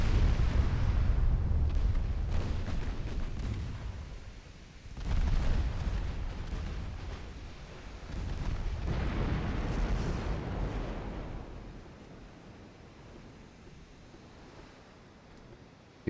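Heavy 12-inch naval guns firing in the naval warfare game Ultimate Admiral: Dreadnoughts, with several deep booming blasts and long rumbling decays that fade into quieter low rumble.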